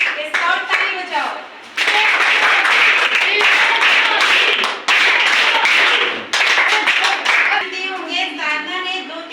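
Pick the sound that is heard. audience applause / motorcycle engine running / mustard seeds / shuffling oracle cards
audience applause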